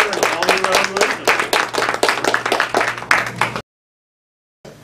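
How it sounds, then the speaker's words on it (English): Clapping from a small Toastmasters club audience for a speaker, uneven and fairly close, over a low steady hum, cutting off abruptly into silence before a brief sound returns at the very end. "let's give a round of applause for our speaker and all the evaluations"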